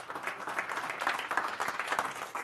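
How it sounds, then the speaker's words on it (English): A crowd applauding, a dense continuous patter of many hands clapping at moderate volume, with no speech over it. "Let's give them a round of applause."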